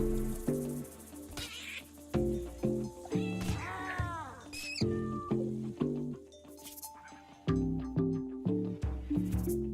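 Cartoonish meows from a cat in the RimWorld video game, several short rising-and-falling calls over steady, looping game music with a pulsing beat.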